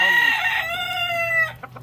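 A fighting rooster gives a single loud, close crow that rises and then holds a long drawn-out note, ending in a brief cluck.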